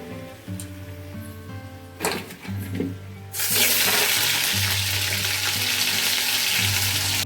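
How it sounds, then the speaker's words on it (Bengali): Potatoes for a chicken curry fry in oil in a wok. A few clinks and stirs come first, then a loud continuous sizzle erupts and holds steady at close range. "কড়াইয়ে একটু তেল দিয়েছি, এই মাংসের আলুগুলো করব, ভেজে নেবো।"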